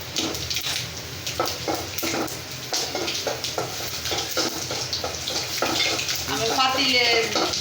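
Whole cumin with white and black mustard seeds sizzle and crackle in hot oil, a continuous close frying hiss with small pops, while someone talks over it throughout.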